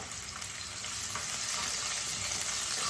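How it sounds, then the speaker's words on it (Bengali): Chopped garlic fries in hot oil as a continuous, even sizzling hiss that swells slightly, close and alone without voices. "তেলটা গরম হয়ে গেছে এর মধ্যে আমি রসুন কুচিটা দিয়ে দেবো"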